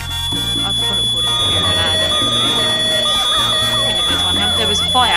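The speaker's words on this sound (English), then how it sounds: "Now I put in a smoke alarm because I didn't." In the video game The Sims 2, a smoke alarm beeps in steady shrill tones over busy game music and sound effects.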